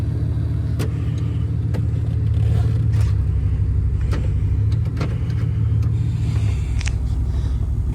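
A pickup truck drives along in four-wheel high, its engine and drivetrain giving a steady close rumble with occasional knocks and scrapes from the cab, no talking.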